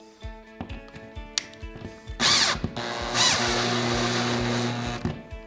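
A power drill drives a screw-in anchor into a wall after some light clicking handling noises, with two loud whirring bursts, the second running longer as it winds down.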